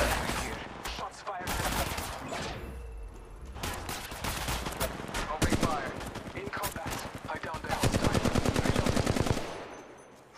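Automatic weapon fire from Apex Legends Mobile rattles in rapid bursts, with a long steady stream of close, loud shots near the end and brief pauses between volleys.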